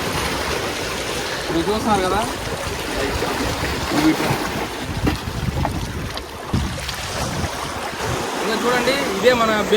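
Bay of Bengal waves wash in steadily at the end of the road by Nizampatnam harbour and beach, a broad rushing surf heavily buffeted by wind noise on the microphone, with a voice faintly underneath.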